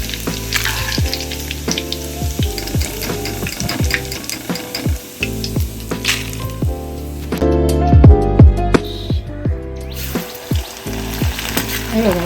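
Dried leftover rice fries in hot oil for Marathi chivda, a loud, busy crackle and bubbling sizzle with repeated sharp clinks and scrapes from stirring, briefly quieter in the middle before resuming.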